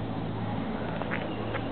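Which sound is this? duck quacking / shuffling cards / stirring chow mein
duck quacking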